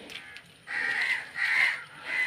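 Crows caw in the morning with loud, harsh calls repeated in three bursts, close by and clear, with no talk over them.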